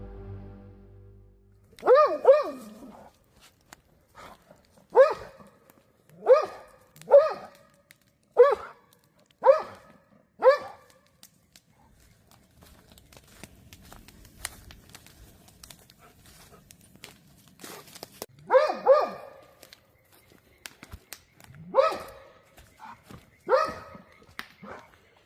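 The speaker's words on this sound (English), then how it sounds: "the dog perked up and started barking into the dark a second time." A dog barks at night in a forest, sharp clustered barks in two bouts separated by a quieter stretch with faint rustling, fairly close and loud against otherwise still surroundings.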